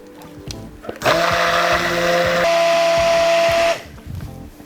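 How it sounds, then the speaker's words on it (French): An immersion blender whirs loudly and steadily for about three seconds while emulsifying chocolate cream in a pouring jug, starting abruptly and cutting off, with quieter kitchen clatter before and after. "avec le mixeur plongeant"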